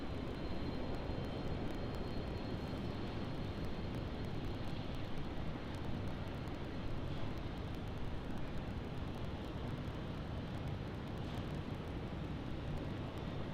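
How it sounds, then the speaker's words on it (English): An Airbus A330 taxis at Brisbane Airport toward the international terminal, giving a steady, distant jet engine rumble and hum that holds unchanged throughout with no voices. "So there's that A330 there taxiing down to the international terminal after it arrived from Auckland."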